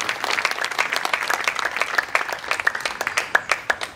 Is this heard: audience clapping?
yes